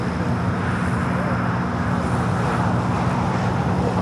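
An airliner's engines drone at LAX as an aircraft taxis toward runway 24 left. The low, steady roar and broadband wash continue without break while a voice speaks over it.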